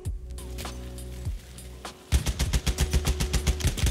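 Rapid automatic fire from an SMG 08 submachine gun in the shooter game Battlefield 1. Loud bursts of sharp, rhythmic shots follow a quieter stretch with scattered single cracks.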